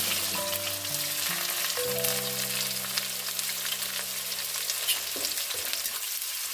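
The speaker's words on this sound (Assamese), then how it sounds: "পিঁয়াজখিনি ৰঙচুৱা হোৱালৈকে ভাজি ল'ম।" Three medium onions sizzling steadily in hot oil with whole cumin, a continuous close frying hiss with occasional crackles, with a low hum underneath.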